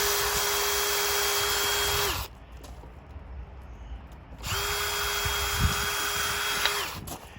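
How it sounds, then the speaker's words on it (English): A power drill bores through a plastic gate post in two long, loud bursts of steady high-pitched whine, separated by a short quiet pause. "We will now drill through the plastic post."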